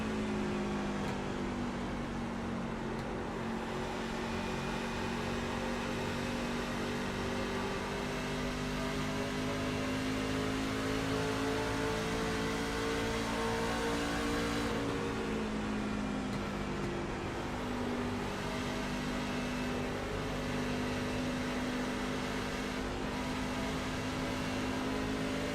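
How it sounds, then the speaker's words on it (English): Onboard a race car lapping Darlington, the engine drones loud and steady with harmonic pitch swells and dips as the throttle is worked, one noticeable drop and recovery midway, no talk over it. "Listen into these throttle pedal inputs as well as watch his hands go to work."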